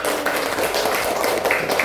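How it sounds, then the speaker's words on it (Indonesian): Classroom of pupils clapping their hands together, a dense, steady patter of overlapping claps filling the whole stretch at close range, with faint voices underneath. "Tepuk tangan buat Reza dan Andi."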